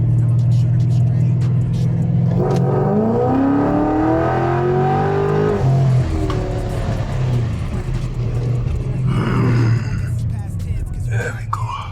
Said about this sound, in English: Let me see if I can do a pull right quick from. Let's do 4th gears,